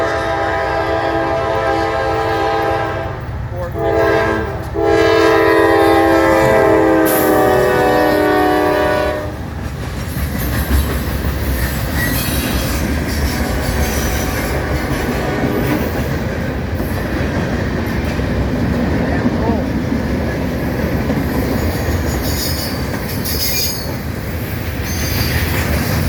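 A CSX freight train hauling crude oil tank cars blasts its horn loudly near the start, then rumbles past with squealing wheels and a rhythmic clatter of cars continuing for a long stretch.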